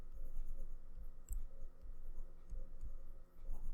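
A math step written out by hand, faint scratchy pen or pencil strokes in short bursts over a low room hum.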